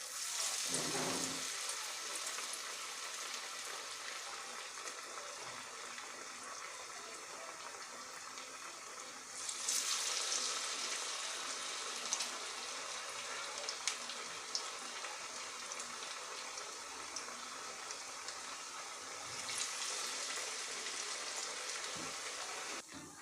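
Onion vada (ulli vada), flattened by hand, fries in hot oil with a steady loud sizzle that runs the whole time, swelling at moments as more batter goes in, and no one talks.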